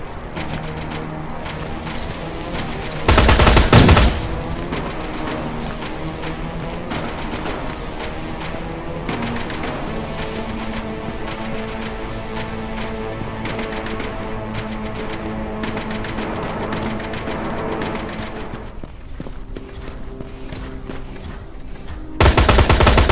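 Sustained automatic gunfire from a Terminator Resistance shooter game rattles on over a game music bed, with two brief louder bursts near the start and end.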